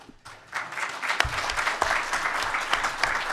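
An audience claps after a conference talk on AI and atomic content, the applause swelling quickly from a quiet start into a steady, dense round of hands that carries on to the end.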